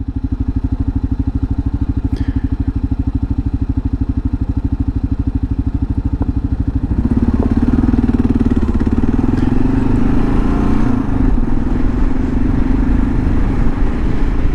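A 2022 Kawasaki KLR650 rides through soft desert sand in Utah, its steady single-cylinder engine droning loud and close; halfway through, the sound thickens into a rougher roar as another rider passes.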